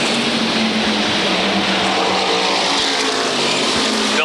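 SK Modified race cars roaring around the Waterford Speedbowl oval during a two-lap shootout, a dense, loud and continuous engine drone with the pack close together and no break in the noise.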